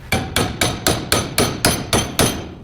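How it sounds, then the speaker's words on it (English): A hammer strikes an oxy-acetylene gas weld clamped in place, nine sharp metallic blows at an even, brisk rhythm, close and loud, each ringing briefly before the next. "Let's grab our hammer."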